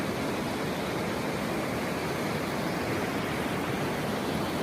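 Water surging through the opened Srisailam dam gates at night makes a continuous, dense roar, loud and even throughout, like crashing surf or a big waterfall heard close by.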